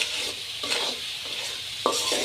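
Salt worked into spice masala in a pan for a village-style duck and potato curry, heard as short, close bursts of spatula scraping over a soft, constant sizzle.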